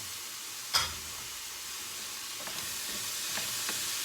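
Chopped bell peppers dropped into a hot pan for chilli paneer give a sharp sizzle burst, then a steady frying hiss with a few faint stirring clicks.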